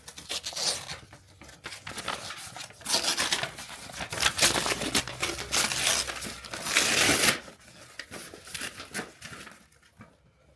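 Crinkly plastic packaging being pulled open and handled up close, with tearing and rustling bursts that continue for several seconds before fading out.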